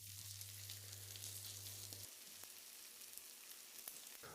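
Carrot potato patties fry in a pan with a steady, close sizzle throughout, and a low hum drops away after about two seconds.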